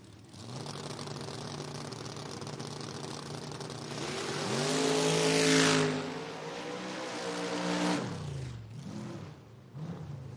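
A door-car drag racer at a FRBR Door Wars eighth-mile event roars off the line, engine revving up loudly with a rising pitch, then easing off as the throttle lifts, with a second surge near the end.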